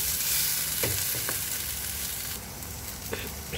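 Sautéing for an egg masala in a pan gives a loud continuous sizzle with scraping stir strokes, easing slightly partway through, no talking.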